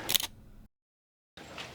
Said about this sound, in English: even if it's just the shutter sound